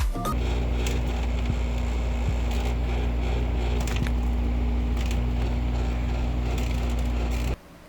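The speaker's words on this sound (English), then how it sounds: "aircon where it's going to rattle up and makes a lot of noise" Old window air conditioner running with a steady loud drone and constant rattling hum, close by and alone, cutting off abruptly near the end.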